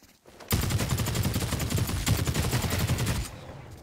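Rapid automatic gunfire from hip-fired weapons in the video game The Cycle Frontier, a dense, loud burst lasting a few seconds after a brief quiet start, then cutting off.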